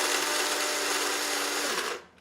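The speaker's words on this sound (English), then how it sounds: "basically the beans are right there, and you want to grind them" Coffee beans for French press grind in an electric grinder with a loud, steady, close whir that cuts off abruptly near the end.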